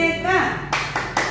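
A classroom of children doing the PPK clap: after a brief spoken voice, a few sharp group claps land in a quick, evenly spaced rhythm, close and fairly loud.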